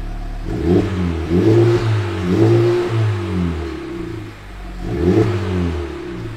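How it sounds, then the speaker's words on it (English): Modified car exhaust revved several times after an exhaust modification, each throttle blip rising into a loud, throaty roar before dropping back to idle, recorded close by with no talking. "we're gonna give it a few revs and see if it's actually any louder"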